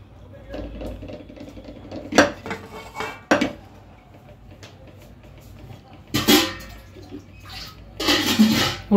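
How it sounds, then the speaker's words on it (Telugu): Water is poured into a pressure cooker holding pumpkin pieces, green chillies and onion, with splashing and clattering bursts of metal pot and utensil sounds between quieter moments, while someone talks softly. "ఉడికించుకోవడానికి సరిపడగా నీళ్లు కూడా పోసుకుందామండి"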